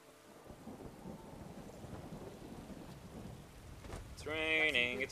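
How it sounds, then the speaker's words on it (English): Steady rain with low thunder rumbling through a Skyrim game world, a soft continuous patter and deep roll before a brief voice breaks in near the end. "It's raining, it's pouring"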